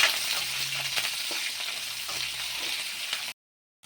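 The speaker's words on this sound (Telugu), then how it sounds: "ఆనియన్ పచ్చిమిర్చి కరివేపాకు అన్నీ కూడా ఇందులో వేసుకొని ఆనియన్ కొద్దిగా గోల్డెన్ బ్రౌన్ కలర్ వచ్చే వరకు ఫ్రై చేసుకోవాలి" Onion, green chillies and curry leaves fry in hot oil, a close, steady sizzle with faint stirring, ending in a sudden cut to silence.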